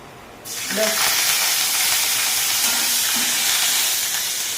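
Asafoetida and curry leaves hit hot oil for a millet pongal tempering, with a sudden loud sizzle that starts abruptly and holds as a steady hiss.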